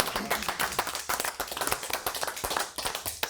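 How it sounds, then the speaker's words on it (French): An audience applauds a team member on a French morning show, giving dense, lively clapping from many hands, close and steady throughout with little variation in level. "On peut l'applaudir aussi bien fort"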